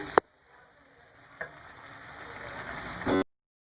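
Bottle gourd and tomatoes frying in a pan with green chillies, a soft steady sizzle that slowly builds, marked by a few short clicks of stirring and a louder scrape near the end.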